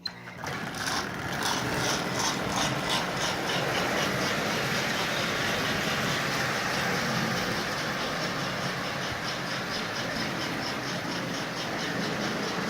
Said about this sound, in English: So a Lionel 1655 cast shell with a Marx single reduction motor mounted in it.